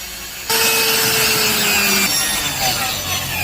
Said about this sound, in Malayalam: ആ ഭാഗം നമുക്ക് കട്ടർ മെഷീൻ വെച്ച് ഇതുപോലെ കട്ട് ചെയ്തെടുക്കണം.